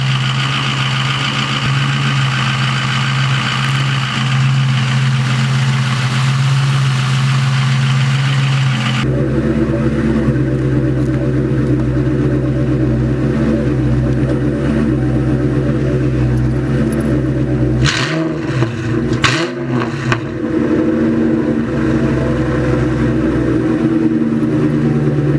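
A Ford Mustang GT's engine idles nearby as a steady low rumble that drops in pitch partway through, with a couple of brief revving swells near the end.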